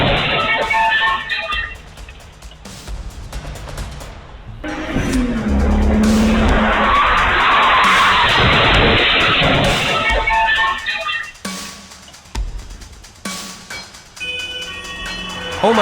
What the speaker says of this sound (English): A car slammed into an ambulance, the very vehicle meant to save lives.